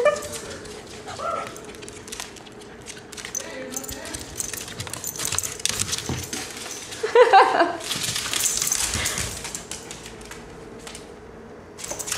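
A corgi lets out short, scattered barks and yips while a pet rat chases it indoors, heard close up among rustling and light clatter, with a burst of louder activity midway.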